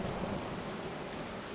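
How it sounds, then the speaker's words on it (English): Steady rain and rumbling thunder in the Skyrim video game, a continuous dense wash of rainfall with low thunder beneath, evenly loud throughout with no voices. "from the sounds of things, it is still raining."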